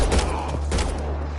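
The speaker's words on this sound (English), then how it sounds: "They shot him!" Burst of sci-fi gunfire during a firefight in Mass Effect Andromeda, rapid overlapping shots with a steady low rumble underneath, loud and close.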